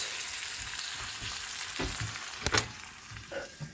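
Canned kidney beans for rajma go into a pot over a steady background sizzle, followed by a few sharp clatters and scrapes as they are stirred around.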